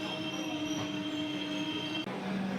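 The Pamban Express passenger train runs steadily from Chidambaram, with a continuous loud rumble of rolling wheels and a sustained metallic squeal, heard from inside the moving train with no talking.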